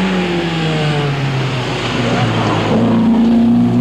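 A rally car on the 1982 Circuit of Ireland Rally roars loudly past at close range, its engine note gliding down and then climbing again with steady revving, while a commentator talks over it.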